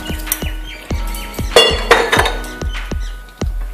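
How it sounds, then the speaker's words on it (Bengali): A metal lid set onto a cooking pot of sambar dal with vegetables boiling in water, producing a string of sharp clinks and clanks close by at an uneven rhythm, with no talking. "ঢাকনাটা ঢেকে দিলাম"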